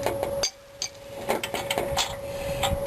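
A socket clinks and taps against a brake bolt while being fitted during front brake and rotor work on a 1994–2004 Chevy S-10 pickup, giving short metallic knocks over a steady whine.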